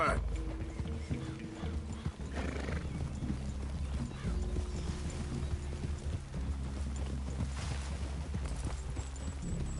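Horse hooves clip-clop steadily in the Red Dead video game, a soft, continuous trotting rhythm in the middle distance, with a horse neighing and voices talking over it.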